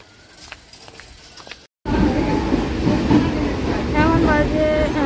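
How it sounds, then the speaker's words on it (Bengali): A passenger train from Bogura pulls into a station, rumbling loud and close with rhythmic clatter and brake squeals after a brief quiet start with faint background noise and a short cut. "বগুড়া থেকে ট্রেন ঢুকলো"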